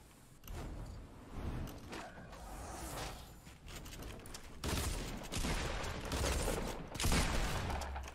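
Fortnite gunfire comes in quick bursts of loud, sharp shots that repeat in clusters over the game's background noise. Nobody speaks.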